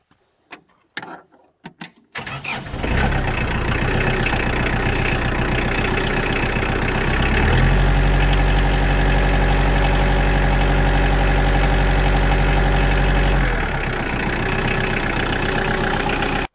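After a few clicks and a start-up crank, a Kioti DK45 tractor's diesel engine settles into a steady loud idle with a deep rumble that shifts in tone partway through.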